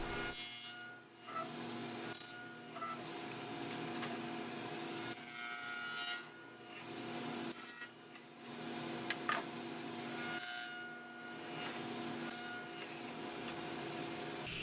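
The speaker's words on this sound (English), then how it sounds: "I set up my dado stack and used my miter gauge to cut tenons on the end of all of the stretchers." A table saw with a dado stack cuts tenons on the ends of reclaimed-lumber stretchers in repeated passes, each a steady whining, rasping cut separated by brief pauses.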